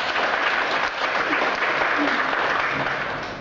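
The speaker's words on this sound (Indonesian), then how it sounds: "Kita kasih tepuk tangan dulu buat Bu Yulia." An audience applauds a guest speaker at a school counselor seminar, steady dense clapping filling the room from start to finish and easing slightly at the end.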